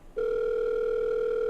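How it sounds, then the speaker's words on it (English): Phone ringing tone in The Letter horror video game, heard as one steady, continuous electronic tone that starts abruptly and holds at moderate volume, with no talk. "Phone rings for a good minute before someone answers"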